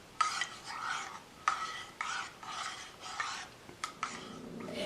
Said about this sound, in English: And stir well.